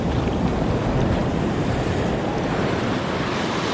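Ocean waves rolling onto a beach at night, a continuous loud wash of surf and roaring water with wind buffeting the microphone, no voices.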